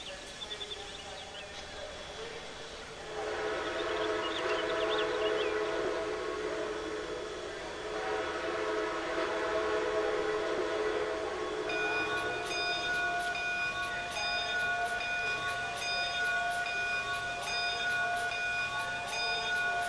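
A Canadian Pacific H1 4-6-4 Hudson steam locomotive in Trainz 2022 sounds a long steady whistle over rumbling rail noise, then its bell rings in an even, rapid rhythm alongside a sustained tone.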